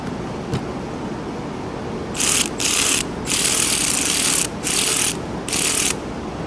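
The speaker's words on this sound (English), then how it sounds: "One thing I want to note with these battery powered ratchets" A Snap-on battery-powered ratchet runs in several short bursts of whirring, starting and stopping in an uneven rhythm, close and fairly loud against a steady low background noise.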